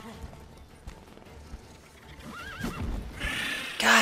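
Roach, a horse in the video game Witcher 3, gives a clear, rising whinny partway through, set against game sounds, hoofbeats and a burst of noise near the end.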